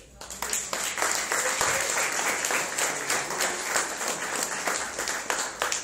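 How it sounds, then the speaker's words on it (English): A round of applause for Pascaline at an HR Café event in Mauritius: dense, continuous clapping from a sizeable audience, fairly loud and sustained, with faint voices mixed in. "Please, let's give a round of applause to Pascaline."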